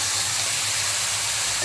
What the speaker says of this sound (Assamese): এতিয়া মই ইয়াতে চিকেনখিনি দি দিছোঁ।